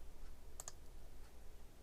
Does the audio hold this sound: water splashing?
no